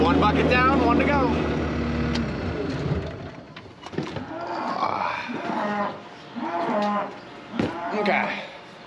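Cows mooing at the feeders on a farm, several loud, drawn-out moos in succession, with engine noise fading out at the start.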